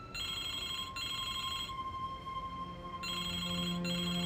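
A telephone rings in the video game Broken Sword: The Smoking Mirror, with bright electronic trills in repeating bursts separated by short pauses, clear and alone.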